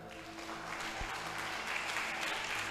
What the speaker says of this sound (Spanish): Vamos a aplaudirle al Señor.